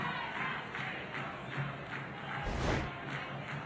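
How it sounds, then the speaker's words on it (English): Football stadium crowd at an A-League match between Brisbane Roar and Adelaide United, a steady broad roar with a brief surge of noise near the end. "This is where you can hear the involvement of the crowd"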